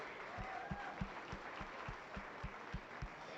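An audience applauds exhibitors at the Elbert County Fair market beef show. The crowd's clapping is a dense wash, with a steady beat of louder thumping claps running through it.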